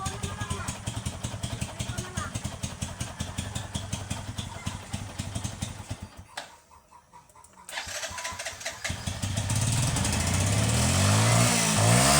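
A motorcycle engine chugs in rapid pulses nearby, briefly dropping away before revving up again into a louder, steady roar.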